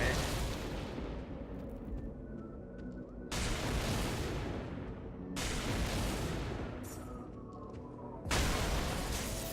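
Chain lightning spell hits in the Torchlight game come as heavy, thudding broadband bursts, about four loud blasts at a few-second intervals, each fading into a rumbling tail.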